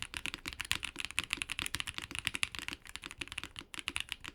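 Wind Studios Sin 65 mechanical keyboard fitted with case foam, typed on at a brisk steady pace, dense clacky keystrokes close up and fairly quiet, no voices.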